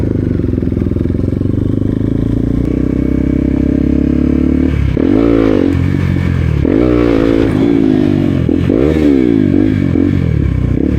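A Honda motorcycle engine revs in several surging bursts, pitch climbing and falling while the bike rides along, loud and close over steady wind and road rumble.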